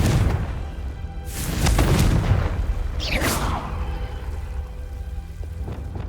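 A Confringo fire spell blast in the Hogwarts Legacy video game, heard as loud, booming bursts with crackling and a sweeping whoosh, over a rushing, rain-like background.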